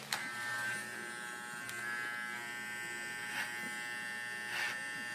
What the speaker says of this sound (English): I'm going to go in with my trimmer.